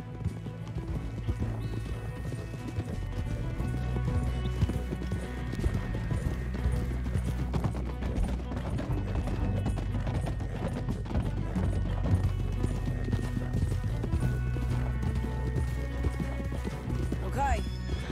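Horses in the video game Red Dead Redemption gallop in a fast, rhythmic clatter of hooves, with occasional whinnies and rumbling movement, loud and close throughout.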